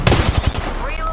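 Rapid burst of gunfire in the battle-royale game Apex Legends, about six close, punchy shots in quick rhythm that stop partway through, followed by fainter game sounds and a brief tonal whine.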